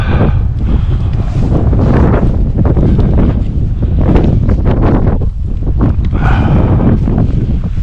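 Strong, gusty wind roars and buffets the microphone continuously at an outdoor shooting range, a loud rumbling rush that swells and eases without any voices.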